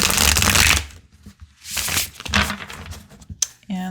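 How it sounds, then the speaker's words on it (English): A deck of tarot cards being shuffled by hand, producing bursts of riffling, papery flutter with short pauses between them, close and moderately loud. "I'm going to give it a shuffle."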